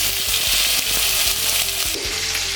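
Tomato drops into hot oil already seasoned with mustard seeds and asafoetida for sambar, and a loud, steady sizzle of frying runs throughout, with a low rhythmic hum underneath.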